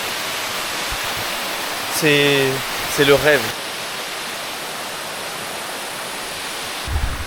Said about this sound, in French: Juste là-bas, une autre cascade.